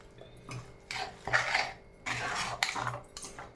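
A spoon scrapes and clinks against a pan while fruits are stirred into hot rava kesari, in several short, close-up strokes with quiet gaps between them.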